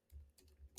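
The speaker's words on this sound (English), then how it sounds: "I'm going to type pregnant" Quiet keystrokes tapped on a computer keyboard while entering a search term, a few soft clicks in quick succession ending in a sharper final tap, with no voices.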